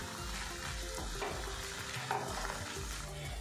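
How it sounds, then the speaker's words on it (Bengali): A spoon stirs sugar into a thick, cooking carrot mixture in a pan, making a steady, close scraping swirl over a low sizzle, with no one speaking. "চিনিটা ভালো করে মিক্স করে নেব।"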